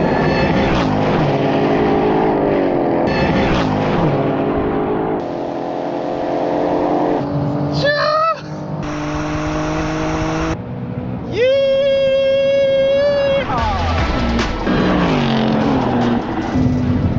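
Two high-performance cars, a BMW M4 Competition and a Ford Mustang Dark Horse, race flat out in a drag run, engines roaring loud and close with rising gear pulls, sharp upshift breaks and a screaming top end.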